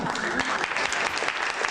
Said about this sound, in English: Can we get a hand clap?